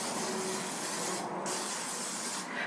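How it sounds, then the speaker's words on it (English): A close, steady hiss of cooking oil spray onto a waffle iron, two continuous bursts separated by a brief gap, ending with a small click. "I'm going to do a light spray with my"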